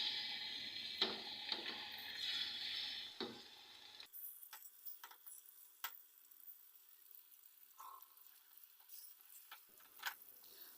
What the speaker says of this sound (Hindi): यहाँ पर अब चिकन को करेंगे हम फ्राई अच्छी तरह